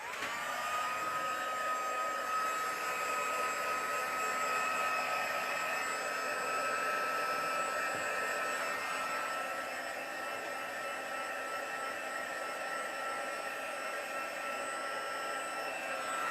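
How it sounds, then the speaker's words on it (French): A heat gun heating embossing powder on a craft project blows in a continuous high whine with a steady airy rush, close and unbroken for the whole stretch. "Et là, je vais chauffer avec mon pistolet."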